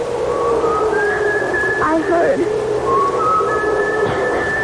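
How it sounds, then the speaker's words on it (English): Thin, wavering whistles drift in and out over a low steady hiss, a few long sliding tones with gaps between them, faint and distant-sounding. "I looked around, but I was alone, and then I heard someone whistling."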